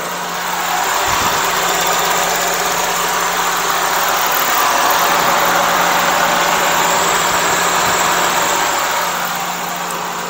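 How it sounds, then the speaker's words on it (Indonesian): Engine of a 1995 Toyota Great Corolla idling with the microphone held close, a loud, steady, even hum with constant rumble and no voices. "saya dekatkan ke mesin jadi biar sampean tahu suara"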